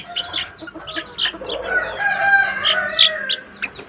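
Several crested chickens cluck and squawk together in a busy, continuous chorus, with a rooster-like call rising briefly partway through.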